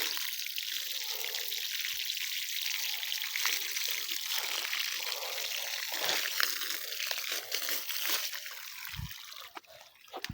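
Irrigation water from a battery-powered DC mud pump's pipe pours and trickles steadily into a field, a continuous close splashing rush with occasional handling knocks near the end.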